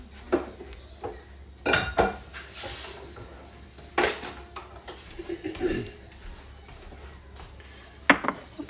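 A cooking pot clanks and knocks as it is set down in a kitchen sink, with several close metallic bangs and clinks spread over the stretch and a faint voice in the background.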